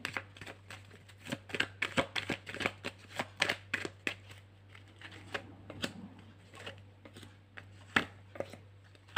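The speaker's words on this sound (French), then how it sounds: "j'ai mélangé le jeu" A deck of cards being shuffled for a card reading, heard as a long run of crisp, rapid riffling bursts and snaps, close and steady, alone over a low constant hum.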